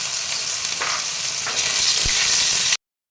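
Nutrela soya chunks fry in oil in a wok, giving a loud, even, close sizzling hiss that runs unbroken for about three seconds, then cuts off abruptly.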